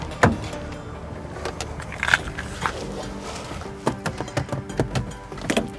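Someone gets into a Vozilla rental car, with soft clicks, rustles and a door or handle clack, then a run of small knocks as they settle in, all quiet and close with no talk.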